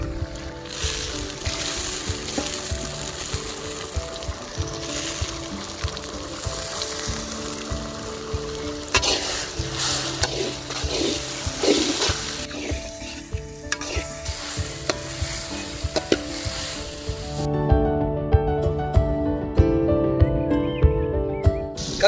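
Tomatoes and onions frying loudly in a pan for a village-style squid pepper fry, a dense steady sizzle with occasional stirring scrapes and clatter, no speech.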